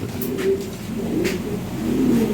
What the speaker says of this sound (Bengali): এই যে দেখেন কবুতর বাসাই পেরে ভাই নিছে